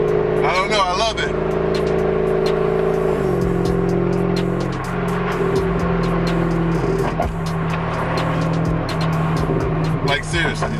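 A car fitted with an Arm intake and downpipes revs its exhaust, a loud, steady engine drone with its pitch stepping up and down through the clip.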